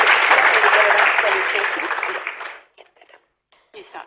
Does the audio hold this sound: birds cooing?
no